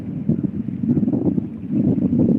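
Strong wind gusting over the microphone beside the Mississippi River while catfishing, a continuous loud low rumble that swells and buffets, with no voices.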